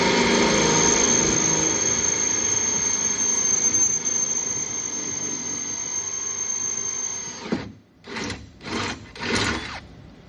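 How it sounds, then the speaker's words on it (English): A loud, continuous high-pitched whine of a power drill with a 5/16 bit boring holes for a blind install, running for several seconds, then stopping, followed by three short bursts of drilling. "that's going to be his final mark where he drills those holes"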